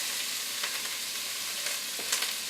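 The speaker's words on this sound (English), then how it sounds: "we're ready to add our onions" Chopped onions and celery sizzle softly in a pan for a vegetable soup, with a quiet, even hiss and a few light stirring clicks.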